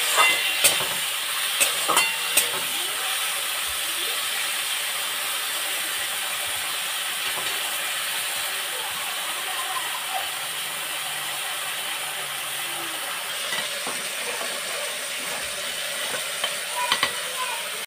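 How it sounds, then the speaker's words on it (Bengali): Potatoes frying in a pan on a home kitchen stove give a steady, soft sizzle across the whole stretch, with a few scattered clinks and stirring knocks near the start and end. No one speaks. "আলু ভাজা বসিয়ে দিয়েছি"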